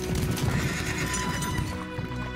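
A horse neighs loudly and close by while its hooves clip-clop continuously beneath the call, with no talking.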